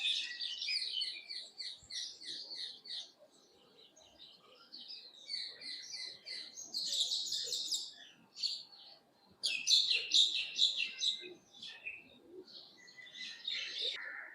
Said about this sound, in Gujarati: એની અંદર કબૂતરો રહેતા હોય છે